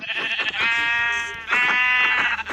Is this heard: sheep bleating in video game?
yes